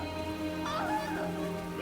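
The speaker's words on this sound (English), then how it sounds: "rain cascaded from the sky, accompanied by crashes of thunder" Steady rain falls in the fantasy video game Throne and Liberty, a continuous wash of drops with a musical score layered over it.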